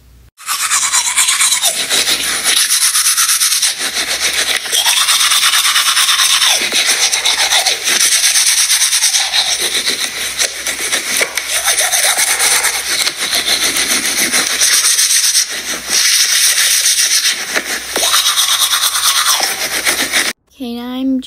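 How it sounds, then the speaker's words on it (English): Rhythmic scrubbing of a toothbrush on teeth in the Roblox game Berry Avenue, repeated brushing strokes in bursts, loud and close, continuing for about twenty seconds. "now I'm gonna grab my toothbrush and brush my teeth."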